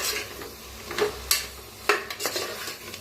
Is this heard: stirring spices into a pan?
yes